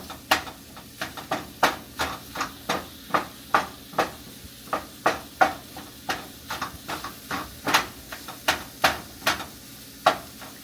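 A spatula chopping plant-based meat in a frying pan, sounding as a steady series of sharp, close knocks over a soft sizzle, repeated about twice per second.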